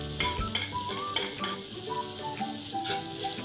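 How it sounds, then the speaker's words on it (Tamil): A spoon scrapes and stirs spices into melted butter with green chili and ginger in a pan, making a close sizzle with several sharp clinks of utensil on metal early on, and no voices. "இதில் ஸ்பைசஸ் எல்லாத்தையுமே கலந்துக்கோங்க."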